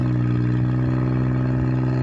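Farm tractor engine running steadily nearby, a constant low droning hum with faint rhythmic pulses, no talk.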